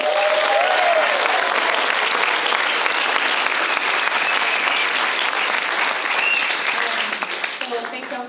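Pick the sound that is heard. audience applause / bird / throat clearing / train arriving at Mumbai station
audience applause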